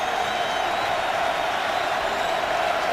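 Dense, steady crowd roar fills a football stadium as the Ravens host the Browns on a third down and long, a loud, continuous wash of cheering with no breaks.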